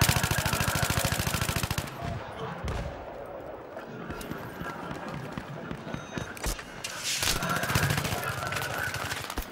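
Rapid machine-gun fire in Battlefield 3, loud, sustained bursts at the start and again near the end, with scattered shots and battle noise in between.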